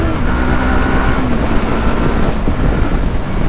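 Yamaha R3 300cc motorcycle ridden at full throttle on a road, its engine a loud continuous roar with steady rising harmonics, mixed with heavy wind rush past the microphone throughout.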